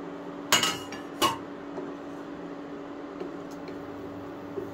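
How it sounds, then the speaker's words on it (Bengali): A metal lid comes off a cooking pot of pulao with two sharp clinks close by, then a quiet kitchen hum. "এখন আমি ঢাকনাটা উঠিয়ে দেখে নেব।"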